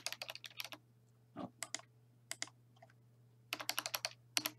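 Rapid bursts of typing on a computer keyboard, with close, crisp key clicks in uneven clusters separated by short pauses and a steady low hum underneath.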